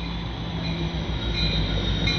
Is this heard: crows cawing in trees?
no